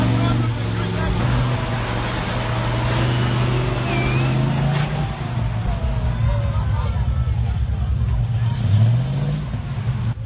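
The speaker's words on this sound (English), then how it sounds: "Ural 4320's wheel is almost stuck between two high mounds and it tries to pass." Heavy Ural 4320 military truck straining on a training ground, its diesel engine droning and revving steadily as a wheel wedges between two high mounds, with voices talking over the low rumble throughout.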